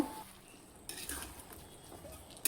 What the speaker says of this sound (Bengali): দিয়ে এগুলো ভালো করে নাড়ায় নেব